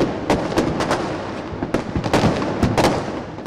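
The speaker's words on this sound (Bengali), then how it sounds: "মুহুর্মুহু আতশবাজি আর পটকার শব্দ বার্তা দিয়েছে পুরাতন বিদায়ের" New Year fireworks and firecrackers explode over Old Dhaka in rapid, irregular bursts, loud sharp cracks and booms overlapping against a constant background crackle, with no speech.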